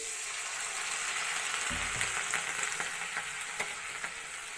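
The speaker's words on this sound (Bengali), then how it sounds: "পেঁয়াজগুলি ভাজা ভালো করে ভাজা হয়ে গেছে সামান্য একটু জল দিই" Onions that are already fried sizzle in a pan as a little water goes in, giving a sharper hiss partway through that settles into a steady sizzle with light stirring clicks.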